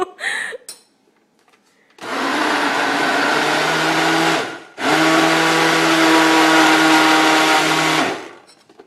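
A pre-1990 kitchen blender runs in two loud sustained bursts of whirring motor, a short pause between them, after a quiet stretch with brief voices at the start.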